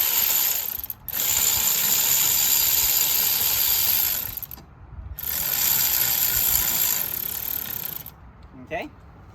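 Hand ratchet clicking rapidly in a steady run while tightening a coil spring compressor on a suspension strut, close and loud, pausing twice between bursts.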